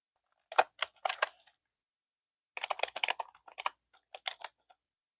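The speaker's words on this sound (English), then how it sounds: "Let me type it out." Typing on a computer keyboard: two close, crisp bursts of quick key clicks separated by a short pause, alone in a quiet room.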